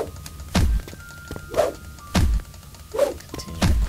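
Rocks being mined in a video game, with four evenly spaced heavy thunking strikes, each a dull low impact with a brief crunchy tail, loud and close with no talk.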